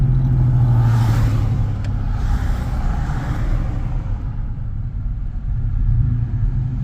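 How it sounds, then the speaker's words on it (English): A 1996 Chevy S10 pickup with a new exhaust drives along, its steady low engine rumble heard from inside the cab, with a slight swell near the start and end. "here's the first drive with the new exhaust"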